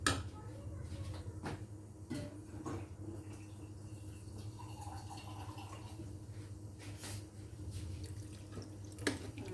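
A little water poured into mango pickle (achar) during mixing: a steady, close trickling and splashing that runs throughout at moderate level, with no clear talking.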